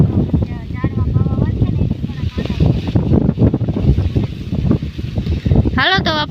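Strong wind blows outdoors in a village, buffeting the microphone with a constant rough roar and rumble, and a voice is heard briefly at the end.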